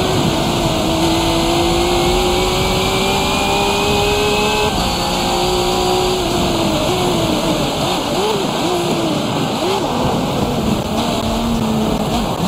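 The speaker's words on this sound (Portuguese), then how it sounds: "A tradicional franquia de games de corrida do Xbox retornará com Forza Motorsport 7." Race cars in Forza Motorsport 7 on Xbox roar continuously with rising engine whines and gear shifts, loud and steady over a dense, rushing background of track noise.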